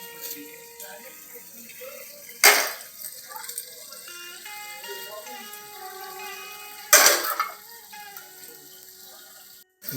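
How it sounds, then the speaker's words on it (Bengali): A woman washes dishes and cooking utensils outdoors in a garden, with running water splashing steadily and two sharp metallic clatters of pots, and faint voices in the background. "আমাদের এই মা বাসন টাসন ধুয়ে দিচ্ছে"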